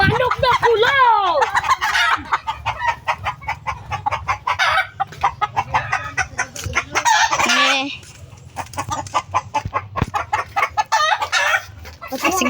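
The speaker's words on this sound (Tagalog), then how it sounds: "This is the chicken." Red chicken in a village yard clucking and crowing in loud, repeated bursts, close by, with rhythmic rustling and faint voices between the calls.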